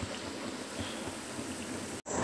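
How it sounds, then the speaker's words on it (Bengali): Malpua fries in oil in a pan at home with a steady, dense sizzle and bubbling crackle that stays close and even throughout, then cuts off briefly at the very end. "দেখো এই যে মালপো ভাজা হচ্ছে"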